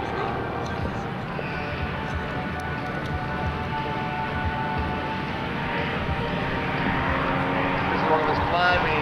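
Chuck Lischer's aerobatic airplane climbing through a 360-degree turn at the 2003 Wheels & Wings airshow, a distant steady droning engine whose pitch slowly rises, under continuous public-address commentary.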